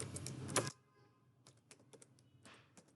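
Typing on a computer keyboard while entering a router configuration message: a dense burst of keystrokes, a brief pause, then scattered, irregular clicks close up.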